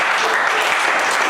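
Steady, dense applause from a comedy club audience at a stand-up show, a continuous wash of clapping with no breaks and no talking over it.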